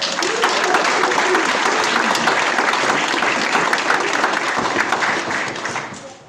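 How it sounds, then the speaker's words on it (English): Sustained applause from a church congregation at a 100-year celebration service of the Herschel Mennonite community, steady dense clapping that holds for about six seconds before tapering off at the end. "I think they deserve a round of applause"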